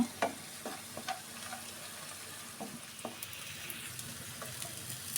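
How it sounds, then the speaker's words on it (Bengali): Rice grains sizzle quietly in a pan with browned onions, with a soft steady frying hiss broken by a few light scrapes and taps as they are stirred. "এতো প্যানে চালগুলো দিয়ে আমি একটু নেড়ে নিয়েছি এখন একটু ভালো করে ভাজা ভাজা করে নেব"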